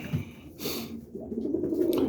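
Boston roller pigeons cooing in their loft, with a short, soft, close coo rising from low background noise.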